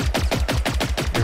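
Rapid automatic gunfire in the video game Generation Zero, about six sharp, evenly spaced shots in a quick burst, loud and close, with no talking.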